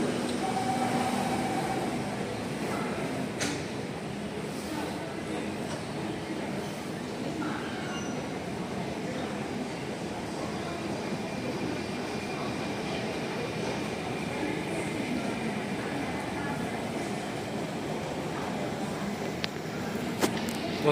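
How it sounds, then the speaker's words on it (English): A train pulls into a station platform, its steady broadband rumble and rail noise continuing throughout at a moderate level, with faint voices and a few small clicks in the background. "Okay, the train's here, but I think I'm gonna wait for next instead."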